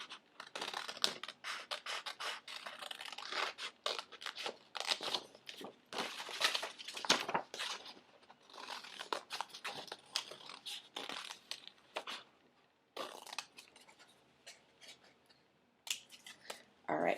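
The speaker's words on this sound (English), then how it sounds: "And now I can cut on this line." Scissors snip through paper while cutting out a skirt shape for a paper fashion design, a close, quiet series of irregular crisp cuts with short pauses as the paper is turned.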